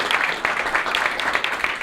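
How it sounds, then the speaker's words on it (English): Brief applause from a workshop audience for a participant, a dense steady patter of clapping hands filling the whole moment. "Give Gianna a round of applause."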